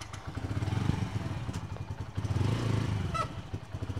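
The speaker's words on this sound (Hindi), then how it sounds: "थोड़ा स्टार्ट करके घुमा देता हूँ" A Bajaj Freedom 125 CNG motorcycle idles with a steady low engine rumble and a few throttle blips, close and fairly loud throughout with no talk.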